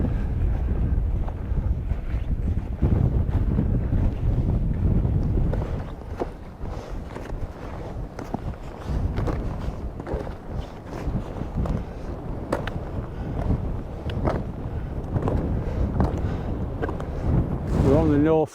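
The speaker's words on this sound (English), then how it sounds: "There's a strong wind, so the wind chill is quite high." Strong, gusting wind buffets the microphone on a Scottish mountain ridge in sub-zero cold, a loud low rumble that swells and eases throughout, with brief speech partway through.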